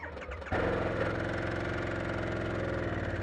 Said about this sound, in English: you're going to hit this button in the center to crank her up